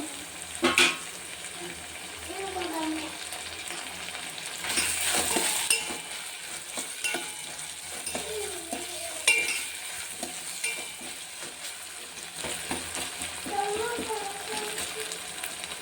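Onions fry in a pan for a prawn and bottle gourd curry, a continuous close sizzle broken by scraping stirs and a burst of louder crackle midway, with faint voices in the background.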